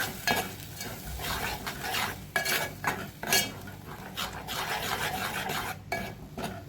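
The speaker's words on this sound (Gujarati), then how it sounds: "આ રીતે દહીંને બરોબર હલાવવાનું જેથી દહીં ફાટી ના જાય" A spoon stirs curd paste into papad sabji in a pan, scraping and clinking steadily against the metal over a soft sizzle, continuous and close with no talking.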